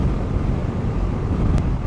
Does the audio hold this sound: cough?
no